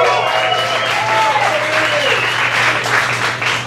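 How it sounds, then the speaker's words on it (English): A comedy club audience applauds and cheers for the headliner at the Brea Improv, a loud, continuous wash of clapping that holds steady and fills the room throughout. "your headliner tonight, Manny Ortiz, make some noise for him"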